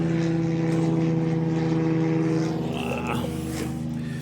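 Propeller-driven airplane passing overhead, a steady droning engine hum that holds loud and close throughout, then slowly fades with a faint shift in pitch; a few brief noises sound nearby.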